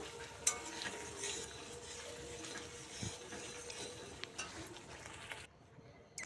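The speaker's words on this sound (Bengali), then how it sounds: "টক দইটা দিয়ে একটু নাড়িয়ে চাড়িয়ে ভালো করে গ্রেভিটাকে আমরা কষিয়ে নেব" Egg korma gravy with yogurt being stirred in a pan, a soft continuous simmer and low sizzle with faint spoon scrapes against the pan, quiet and close.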